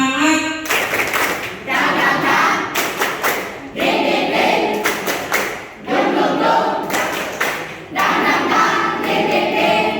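Students at a school leadership training session perform a rhythmic spirit clap, loud synchronized bursts of clapping and thumps in repeated phrases separated by short pauses, with group shouts mixed in.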